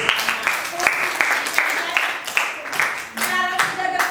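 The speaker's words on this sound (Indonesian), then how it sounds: "Tepuk tangan." A group of children clapping hands together in a classroom, a burst of brisk, uneven claps close by, with voices mixed in.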